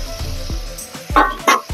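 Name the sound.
chicken being mixed and sizzling in the pan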